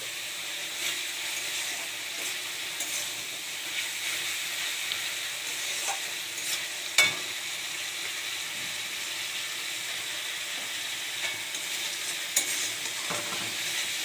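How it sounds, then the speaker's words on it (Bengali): Tomato ketchup being stirred into a sizzling frying pan, a steady close hiss of frying with faint scraping of the spoon and a couple of sharper clinks along the way. "এই দেখুন, অল্প করে টমেটো কেচাপ দিয়ে দিলাম, দিয়ে এটাকে একটু নেড়ে করে নেবো।"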